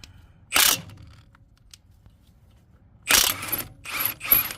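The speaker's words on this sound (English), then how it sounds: "we're gonna be using the Trusty Milwaukee to get these nuts loose" Milwaukee power tool loosening nuts on an old Ford F350 truck, sounding as a loud ratcheting burst near the start, quiet for a while, then two more bursts in close succession.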